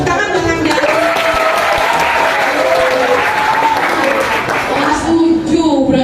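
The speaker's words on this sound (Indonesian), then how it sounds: "Tepuk tangan buat Hamdani." An audience of schoolchildren at a dengue health outreach event at an Islamic boarding school applauds loudly and steadily, with a voice speaking over the clapping.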